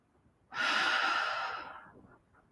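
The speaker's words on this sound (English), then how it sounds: "And we're going to keep breathing." Person breathing during a midday stretching session: one long, audible exhale that swells suddenly and then slowly fades, close and quiet, with no talk.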